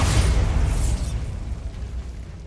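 A Bombarda spell blast in Hogwarts Legacy, a single heavy explosion with a deep booming onset that rolls into a long, rumbling decay, loud and close.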